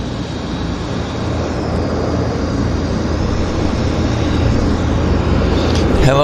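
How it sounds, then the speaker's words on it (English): A WestJet Encore airliner takes off from Vancouver Airport and climbs out, a broad continuous engine roar that builds gradually and stays loud throughout, heard from a distance without talk. "WestJet Encore getting airborne for us. It's a nice takeoff. Very nice climb out."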